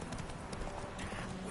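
Hooves clip-clop in a quick, steady rhythm as a horse gallops in The Witcher 3 video game, moderately close and alone over a soft background.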